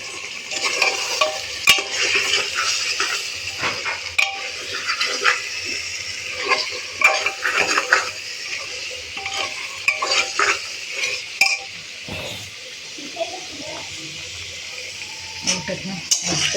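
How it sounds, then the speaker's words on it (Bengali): Potato pieces sizzle in a hot pan while a spoon stirs and scrapes them, with intermittent clinks of metal utensil against the pan over a steady frying hiss, close and moderately loud, with no talking. "দেখো এই যে আমি এখানে আলুটা ভাজতে বসিয়ে দিলাম"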